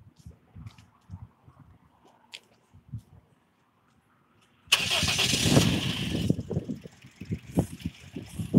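A car having its PCV valve and vacuum lines serviced cranks and starts abruptly after several seconds of quiet clicks and shuffling, then settles into a steady idle close by with rough pulsing.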